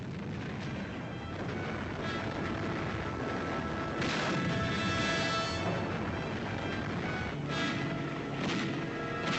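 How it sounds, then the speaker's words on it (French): Continuous artillery fire from gun batteries shelling coastal defences on Hill 609 during the Tunisian campaign, a dense rolling barrage of booms and crashes with heavier blasts around the middle and near the end, loud and steady throughout with no talk. "Avec un tir continu et ciblé, les batteries d'artillerie d'Alexander commencent par affaiblir les défenses de la côte 609."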